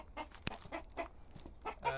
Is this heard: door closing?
no